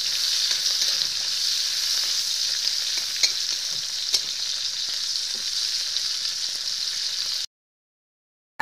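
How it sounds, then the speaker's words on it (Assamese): Onions sizzling in hot oil in a pan while making kuchia eel fish curry, a steady close crackling fry with a few stirring clicks, cutting to silence near the end. "পিঁয়াজখিনি অলপ ভাজি ল'ম।"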